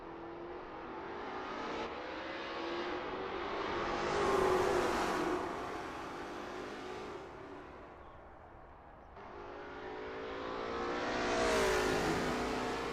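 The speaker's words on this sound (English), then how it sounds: "the sounds of cheering fans should just barely be audible over the roar of the engine" A Lola T70 MkII Spyder race car engine in a racing video game at Bathurst whines and revs, rising in pitch through the gears, falling back, then surging again, loud and steady with no talk.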